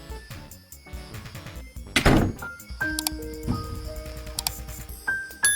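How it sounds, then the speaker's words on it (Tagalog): A door is pushed shut with a sharp, loud thunk near the middle, followed by lighter knocks and rattles, set against background music and scattered room noise. "Isara mo ang pinto. Sara mo nga yung pinto."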